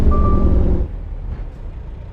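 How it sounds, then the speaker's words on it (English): Reversing beeps from a truck in American Truck Simulator, a loud steady electronic tone over a heavy diesel engine rumble, the beeping stopping partway while the engine idles on. "Why are you beeping? Quit beeping."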